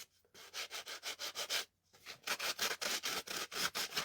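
Soft, rapid rhythmic rubbing strokes over raised embossed pieces to lift off colour, a quiet close scratchy swishing in even bursts with one brief pause.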